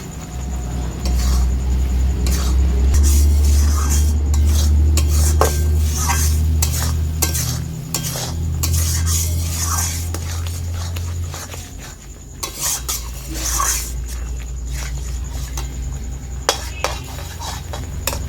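Raw mango chutney with cashews and raisins being stirred in a pan, a steady clatter of spoon against metal over a soft simmering sizzle, close up and continuous, with a low background hum and no speech.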